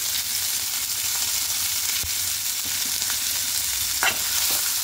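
Potatoes for a vegetarian aloo dum fry lightly in ghee, giving a constant close sizzle with a few soft clicks and scrapes of a spatula, steady in loudness.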